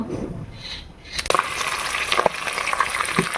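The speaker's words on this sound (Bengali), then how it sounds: "মাছের মাথা ভাজবো।" Fish heads dropped into a hot pan with ginger, onion, cumin and chilli, a muffled clatter followed by a bright, steady sizzle with a few sharp knocks, close up.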